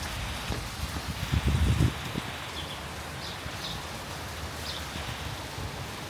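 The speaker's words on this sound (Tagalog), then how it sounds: "Biglang umulan, pero umulan naman kanina eh" A sudden rain shower in Jerusalem, heard from shelter under a tree: a steady, soft hiss of falling drops, fairly faint and diffuse, with a few heavier patters near the start.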